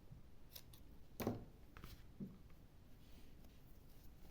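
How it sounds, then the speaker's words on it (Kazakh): Scissors snip through white yarn on a crochet piece, giving a few faint, close, crisp cuts with one stronger snip in the middle, set against quiet room hiss. "үш жерден ақ жіпті қиып тастаймыз"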